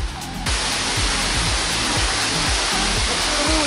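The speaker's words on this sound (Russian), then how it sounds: "Вон водопад даже." Steady, dense rushing roar of a waterfall at a hot spring resort in Nha Trang, Vietnam, filling the whole clip without letup, with faint low rumbling underneath.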